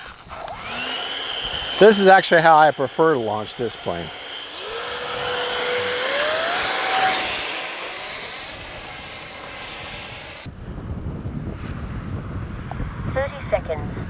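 An Arrows 50mm Avanti S RC jet's electric ducted-fan motor spools up into a loud, rising whine that holds steady under talk, then drops to a fainter hum as the small jet moves away.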